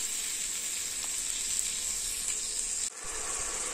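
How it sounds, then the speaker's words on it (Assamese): Onions frying in a pan for an Indian veg thali, a steady, bright sizzle heard up close with a brief dip near the end, no voices. "আমাৰ পিঁয়াজখিনি খুব ধুনীয়াকৈ ভজা হৈ গ'ল"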